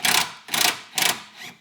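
A wrench loosens 17 or 19 mm bolts on an oil filter housing during an RX-8 4G63 engine swap, giving three quick ratcheting bursts and a softer fourth, close and loud with no talking.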